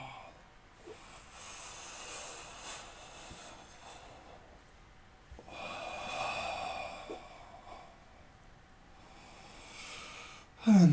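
Breathing out during a yoga exercise, soft airy exhales in gentle waves with a fuller breath midway and a brief sharp sound at the very end, quiet and close.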